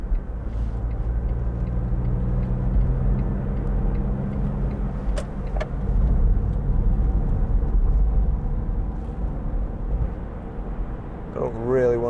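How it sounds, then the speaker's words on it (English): A 2004 Smart fortwo 0.7 City Passion city car drives along with a steady low engine rumble that swells and dips as it shifts gears, heard from inside the cabin with brief background sounds. "I'll just show you about the gear changes."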